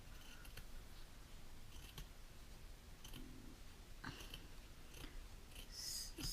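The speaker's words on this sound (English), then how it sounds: "So here I have cut down a strip of felt" Scissors snip through a thin strip of felt with a series of soft, close clicking cuts spaced about a second apart, faint over quiet room noise.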